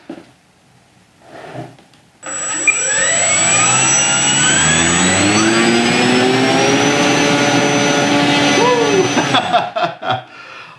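A ParkZone F4F Wildcat RC plane's electric motor and propeller spin up from rest to a loud, high whine, hold steady with rising and falling pitch, then cut off abruptly; someone speaks briefly before it starts.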